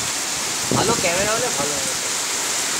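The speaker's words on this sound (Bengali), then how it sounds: "বৃষ্টির জন্য আওয়াজটা বেশি।" Heavy rain lashes down during Cyclone Amphan, a dense, steady roar of downpour close by, with someone talking briefly over it.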